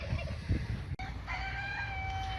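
Farmyard fowl calling in a yard where geese roam, a loud crow-like call rising and ending before a brief drop-out, followed by a steady high tone over constant low background rumble.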